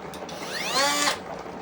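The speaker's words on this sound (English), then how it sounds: "we're going to see if we can give it a little help with the mini grinder" A mini grinder works a rough rock, a brief close high-pitched whine that swells and falls over about a second.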